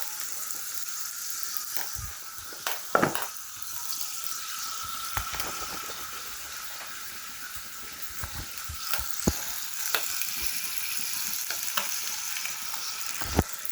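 Vegetables for a salad fry in a pan with a continuous soft sizzle, punctuated by scattered pops, crackles and the occasional clatter of stirring.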